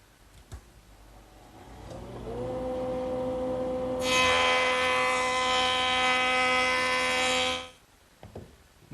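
A power tool spins up with a rising whine, then cuts into the edge of a curved wooden rail for a few seconds with a bright, loud buzzing roar before winding down, nearby and without talk.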